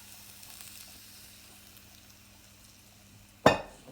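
Peppers sautéing in sunflower oil give a faint, low hiss that swells into a sudden loud sizzling burst near the end and then fades.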